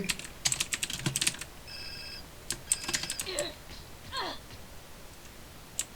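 Quick bursts of typing on a computer keyboard during a GTA San Andreas multiplayer roleplay session, with irregular clustered keystrokes, brief electronic tones and a faint voice in between.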